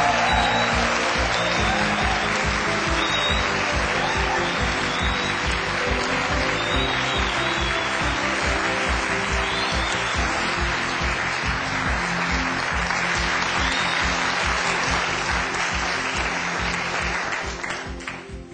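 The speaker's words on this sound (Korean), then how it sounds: "여러분, 정만훈 대표님을 큰 박수로 맞이해 주십시오." A large audience at a CEO lecture applauds, dense sustained clapping that continues steadily for a long stretch before tapering off at the end.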